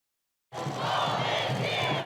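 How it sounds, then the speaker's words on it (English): Young undocumented immigrants outside the U.S. Supreme Court break into cheering, a sudden burst of crowd shouts and whoops that starts abruptly and holds loudly for about a second and a half. "Young, undocumented immigrants, known as dreamers, emerged from the U.S. Supreme Court cheering"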